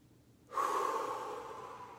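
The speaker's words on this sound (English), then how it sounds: "Take a deep breath." A single deep inhaled breath, starting abruptly and drawing out for over a second, close and quiet, with no talk.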